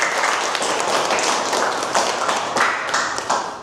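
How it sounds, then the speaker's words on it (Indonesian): A group applauds after a class presentation on fish triploidy, a steady dense clatter of many hands clapping close by, continuous for the whole stretch with a few louder swells. "tepuk tangan untuk kelompok 1."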